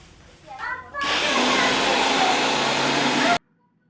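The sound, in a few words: grinding rice while cooking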